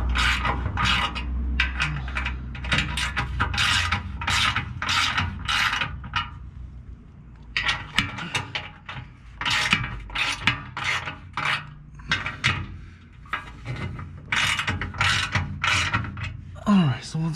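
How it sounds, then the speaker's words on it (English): An electric ratchet loosens bolts while a 2017–2020 Ford Raptor blow-off valve is installed, giving close, loud bursts of rapid ratcheting clicks in repeated runs with brief pauses between them. "I have a tool, an electric ratchet, to make it a little bit quicker."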